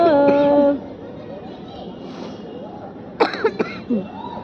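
A few quick coughs follow a sustained sung or held vocal tone during a Christian worship prayer, with faint background murmur in the room.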